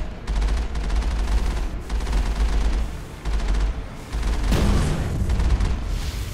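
Enemy weapons fire in Mass Effect during a Mako vehicle fight: dense, sustained bursts of shots and booming impacts with a couple of brief pauses and one sharp blast near the end, loud and continuous.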